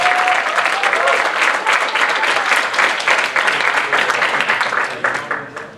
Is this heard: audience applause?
yes